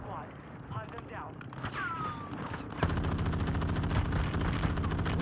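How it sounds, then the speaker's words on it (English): Rapid automatic gunfire in the shooter game Warzone 2 starts about halfway through and continues as a dense, steady stream. Earlier, a voice talks over quieter game sounds. "Who's shooting me, man?"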